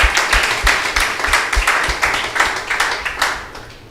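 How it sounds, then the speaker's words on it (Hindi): A church congregation clapping loudly in praise during a healing prayer service, a steady rhythmic beat of many hands close by for about four seconds. "जोर से तालियां बजाइए पिता परमेश्वर के लिए"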